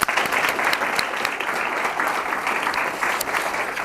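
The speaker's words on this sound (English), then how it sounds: "a round of applause for Captain Thompson" Steady applause from a crowd at a fire service awards ceremony, many hands clapping densely and evenly for several seconds without a break.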